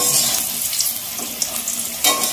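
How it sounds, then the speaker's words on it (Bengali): Potatoes for a meat curry frying in a kadai, a steady close sizzle with a few stirring scrapes and clinks and no talking. "মাংসর আলুটা এখন ভাজা হচ্ছে।"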